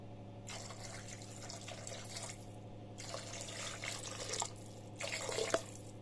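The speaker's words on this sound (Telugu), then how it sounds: "ఇప్పుడు ఇందులో కొన్ని వాటర్ వేయండి" Water runs from a tap in three separate bursts, splashing into a cooking pot for paya soup over a steady low hum.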